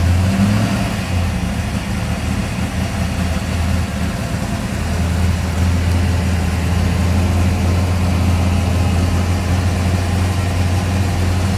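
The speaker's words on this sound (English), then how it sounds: "You can hear the solid lifters from here." A 1965 Mustang Shelby GT-350 tribute's high-performance 289 V8 with solid lifters idles loud and steady up close, a heavy, even exhaust drone with a light mechanical chatter running underneath for the whole stretch.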